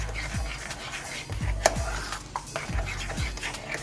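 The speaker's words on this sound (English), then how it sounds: "Just stir it up just like that." A utensil stirs food in a pot in repeated scraping sweeps, roughly one every second, close and moderately loud, with a sharp metallic clink partway through.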